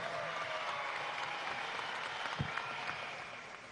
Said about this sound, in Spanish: Un aplauso para este muchacho.